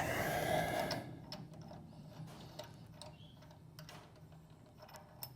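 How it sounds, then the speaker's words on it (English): Ratchet backing out a bolt during a valve spring job on a Barra engine still in the car, a run of quick light clicks after a brief louder rustle. "Back the bolt out."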